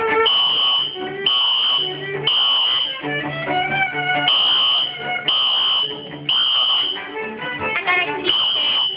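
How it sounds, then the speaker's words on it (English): A high school fire alarm blares in repeated loud electronic buzzing bursts, each about a second long with short gaps, while people talk nearby underneath it. "a fire alarm going on"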